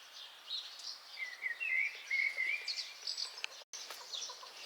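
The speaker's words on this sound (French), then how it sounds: "on entend les oiseaux chanter" Small birds chirping and trilling under a magnolia tree in a spring garden, faint and somewhat distant, with a continuous mix of calls and no voices.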